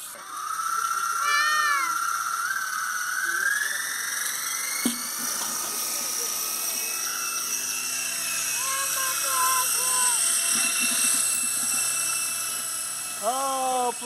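A helicopter's high, steady whine drones continuously, with a few faint voices and chirpy sounds breaking in now and then.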